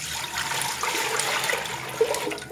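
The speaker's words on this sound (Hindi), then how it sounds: "अब मैंने प्रेशर ले लिया, इसके अंदर मैं 1 जग पानी ऐड करने लगी हूँ" Water from a jug pours steadily into a pressure cooker while chickpeas for Lahori chole are being prepared, a continuous close splashing rush lasting a couple of seconds with no talking.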